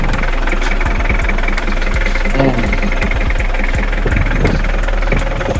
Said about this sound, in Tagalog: try natin paandarin para marinig nyo kung ano yung tunog or ugong ng makina